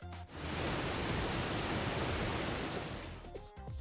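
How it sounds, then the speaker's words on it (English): A waterfall in the video game Blue Archive rushes in a dense, steady roar for several seconds, close and loud, then fades off near the end with a few soft game tones. "Oh, it's behind a simple waterfall."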